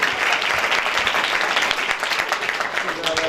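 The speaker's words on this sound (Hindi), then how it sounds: "जोरदार तालियां बजाई" Loud, sustained applause from a church congregation at a Sunday program in Lahore, dense, even clapping throughout with voices mixed in underneath.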